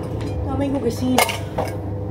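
Dishes and cutlery being washed in a home kitchen, with a few sharp clinks and clatters of plates and utensils over a low background hum and running water.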